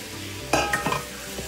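Pieces of paneer drop into a thick spiced masala frying in a pan, a short close burst of sizzle and a couple of soft stirring scrapes over a steady background fry.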